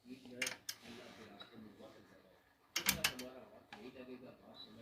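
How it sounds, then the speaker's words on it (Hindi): Metal clicks and a ratcheting wrench on a Honda CG 125 tappet bolt being tightened, a few short bursts near the start and a louder cluster midway, close and fairly faint with quiet background. "इस बोल्ट को हमने अच्छी तरह टाइट करना है।"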